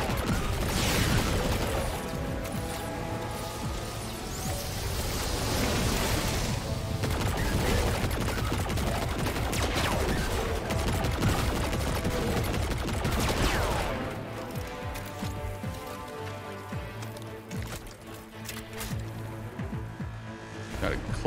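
Rapid machine gun fire in the Destiny raid-style game Deterministic Chaos quest, a dense continuous rattle of gunfire with booming impacts and game effects throughout, easing slightly toward the end.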